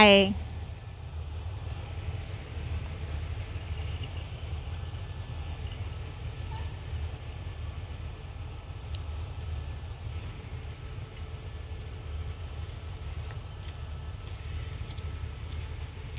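Low, steady rumble of locomotive 4012 hauling train cars near Hua Lamphong station in Bangkok, a continuous heavy drone with faint mechanical hum and no distinct clanks.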